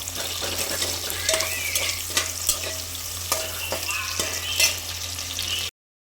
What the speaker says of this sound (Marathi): तेल गरम झालं आहे त्यात आपण कांदा फ्राय करूया